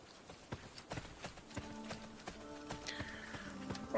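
A horse gallops with quick, fairly faint hoof clip-clops in Assassin's Creed Brotherhood, mixed with tonal game sounds and a rising chime near the end.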